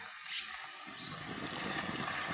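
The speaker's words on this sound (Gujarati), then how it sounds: "નાખ્યું પાણી થોડું" A little water is poured while making Gujarati bhel, heard as a short, steady splashing trickle that builds slightly over a couple of seconds, with no talking.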